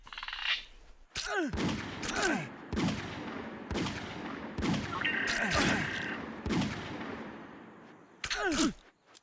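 Repeated gunshots ring out in Prehistoric Hunt: Tenebris as a Sinornithosaurus swarm closes in, loud sharp blasts spaced about a second apart with echoing tails and a short electronic tone midway.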